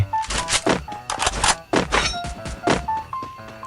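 Guns are switched in the Free Fire mobile shooter during a ranked match, a quick run of hollow thunks, clacks and short metallic dings, loud and close with no talking.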